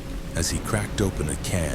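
Rain falling during a storm, a steady hiss of rainfall carrying on as a low bed beneath someone speaking in a narrating voice that dominates the foreground.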